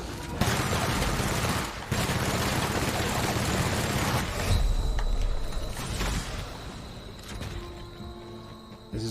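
Sustained bursts of rapid gunfire from a sci-fi shooter game, loud and dense for most of the stretch with brief gaps and mechanical clanks, no talk over it.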